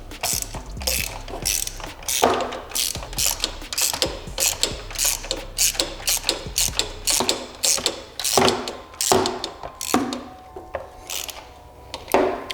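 A ratchet clicks rapidly while turning a socket on the alternator belt tensioner of a Nissan VQ35 engine, dense bursts of pawl clicking with brief pauses, close up and loud throughout.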